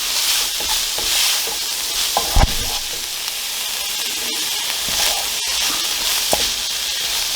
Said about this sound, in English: The carrot adds a nice bit of colour to it. So we'll stir that up.